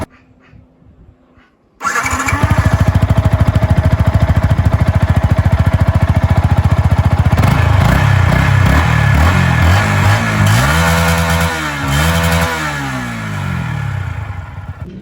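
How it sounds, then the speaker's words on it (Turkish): A Yamaha YZF-R125 motorcycle engine is started and runs with a rapid, buzzy idle, then revs up and down several times, loud and close. "şöyle kontağı açıyorum. Hemen marşa basıyorum. Böyle bir sesi var şu anda çalıştığında."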